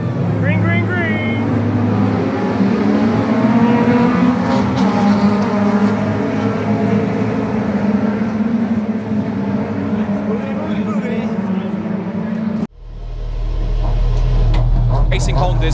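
Racing Honda race cars pulling away together at the start of a race at Oulton Park, a loud sustained roar of many engines close by for about thirteen seconds before cutting sharply to a lower, steady engine drone.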